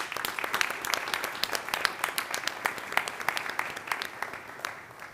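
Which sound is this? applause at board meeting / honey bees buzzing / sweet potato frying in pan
applause at board meeting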